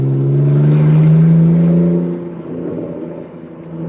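A straight-piped BMW engine revs loudly up close, a deep steady drone that holds then eases off into a lower idle rumble.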